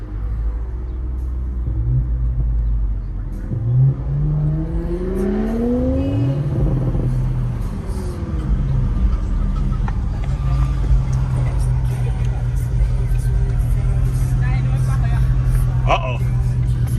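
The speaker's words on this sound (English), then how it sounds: "Something tells me there's a street race happening" Several cars rev and accelerate through a night street race in Bellmore, engines rumbling and rising in pitch across a steady low drone, with someone talking over the noise.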